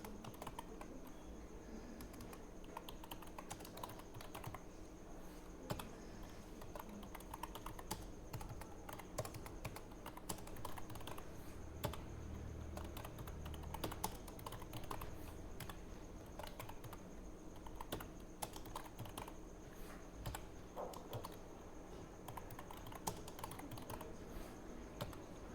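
Steady typing on a computer keyboard while text is entered into an MS Word document, a dense run of quick clicking keystrokes that continues throughout at an even, fairly faint level, with no talking.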